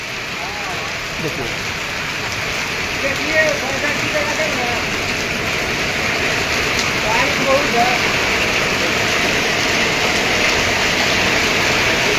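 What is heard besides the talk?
heavy rain and strong wind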